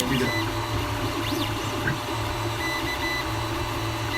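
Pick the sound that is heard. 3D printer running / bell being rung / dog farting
3D printer running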